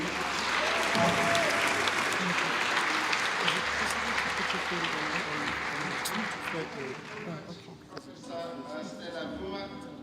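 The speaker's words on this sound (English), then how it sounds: "A round of applause, ladies and gentlemen" Audience applause at a university strategic plan launch, a broad sustained roar of many hands clapping that thins and fades near the end, with a voice briefly audible through it.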